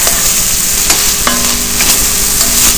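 A spoon stirs stuffed bell pepper filling in a hot pan, a steady sizzle running underneath with a few distinct scraping strokes and clinks against the pan, close and alone without talk.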